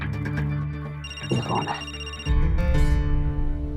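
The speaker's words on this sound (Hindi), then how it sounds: "किसका फोन है?" A telephone rings with a loud, steady electronic ringtone, its tone shifting partway through, while someone speaks briefly over it.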